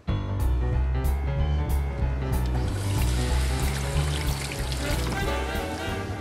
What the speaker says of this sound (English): Then I need to add water, hot water, to both of these pans.